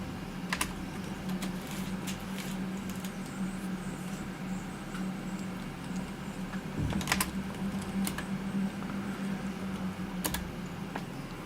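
Steady typing on a computer keyboard during a livestream, a continuous quiet patter of keystrokes with a few sharper clacks, close by and with no speech over it.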